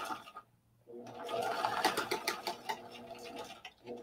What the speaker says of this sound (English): so I just sewed right off the end